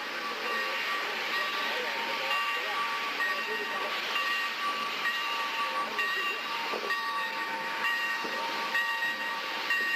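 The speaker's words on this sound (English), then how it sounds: "We'll just let the steam locomotive do its thing." A steam locomotive runs on the Conway Scenic Railroad, giving a steady, fairly faint hiss and rumble with hints of a steam whistle, heard from a moderate distance for the whole span.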